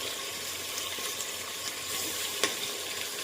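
Onion, carrot and potato fry in oil for spiced rice, a steady hiss of sizzling with faint stirring and one brief knock, close and moderately quiet.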